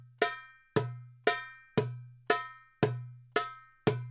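Eight evenly spaced strokes on a hand drum each ring out with a deep bass doom under a bright metallic attack, played alone in a steady, measured rhythm.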